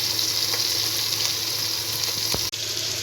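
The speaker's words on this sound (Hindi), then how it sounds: "अब इस चिकन को लहसुन अदरक को हम कम से कम 2 से 3 मिनट फ्राई करेंगे।" Chicken frying with ground garlic and ginger paste in a pan for a gobi chicken recipe, a steady close sizzle running throughout with a brief dip near the end.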